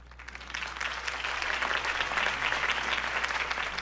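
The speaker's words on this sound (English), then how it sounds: "If only Mr. Wayne, my campaign's largest backer, could have heard that applause" In a video game, a crowd applauds Harvey Dent's campaign speech with steady, dense clapping that holds evenly throughout, set against a low hum.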